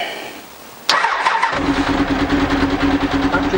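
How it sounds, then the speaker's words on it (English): Honda CBR1000F motorcycle from a landfill, with an engine rattle, cranking briefly and then catching and settling into a steady, close idle, with no talk. "Let's try and start it up."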